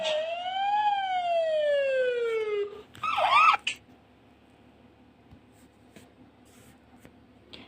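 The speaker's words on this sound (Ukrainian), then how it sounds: "Ось це, друже, пожежна машина." A fire engine siren wails, sweeping up and down loudly, then cuts off, followed by a brief electronic squeal and quiet background.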